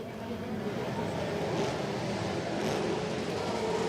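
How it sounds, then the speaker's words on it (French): Racing motorcycles enter the pits at the Charade circuit, making a dense, continuous mechanical roar that holds loud and steady throughout, with no distinct individual revs standing out. "Il y a beaucoup de bruit avec les motos qui rentrent maintenant dans les stands."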